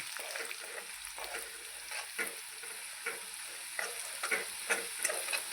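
Crushed garlic and a ginger, garlic, coconut and coriander paste fry in hot tempering oil for a ridge gourd dish, a steady close sizzle broken by repeated spatula stirs and scrapes, with no talking.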